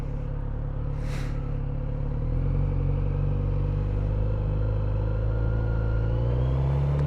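Kawasaki Z900RS motorcycle engine rumbling steadily at low speed through a U-turn in congested traffic, its low drone rising slightly in pitch toward the end, close and fairly loud with light wind noise.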